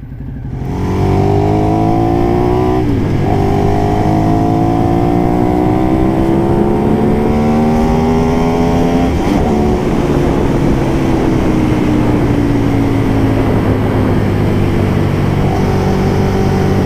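A Ducati 848 Streetfighter motorcycle rides and accelerates, its loud close engine note climbing steadily through the revs with a couple of brief shifts as it keeps pulling.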